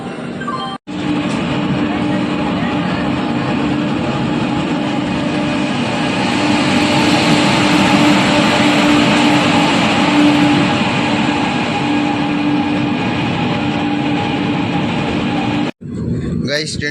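A train sits held at platform 3 of a station, its steady broadband rumble and hum filling the whole stretch, loud and continuous with a faint tonal whine running through it.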